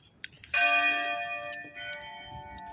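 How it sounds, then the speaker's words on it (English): A bell rings out clearly outdoors in Ogden, a ringing metallic strike with a long sustained hum that decays, followed by softer second strikes, over faint background noise. "For whom the bell tolls."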